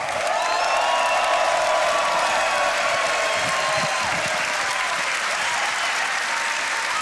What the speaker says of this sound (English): Taking third place, ladies and gentlemen, give it up for Scam Talk!